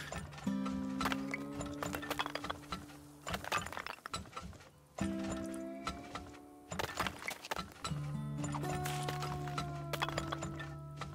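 Horse hooves clip-clopping in the oil-drilling video game Turmoil, repeated bursts of quick hoofbeats with clinking and tonal game sounds layered over them, loud and close, no talk.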